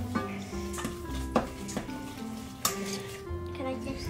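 Sugar melting in a hot pan for flapjacks sizzles softly while a spoon scrapes and knocks against the pan a few times; voices talk over the quiet cooking sounds.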